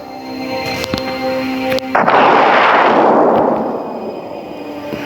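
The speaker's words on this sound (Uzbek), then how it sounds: "Raketalar otib ko'raylik-chi, nima bo'ladi?" Rockets launched in the video game Solar Smash, a run of sharp synthetic bursts followed by a loud, sustained rumbling explosion that slowly fades, with no talk.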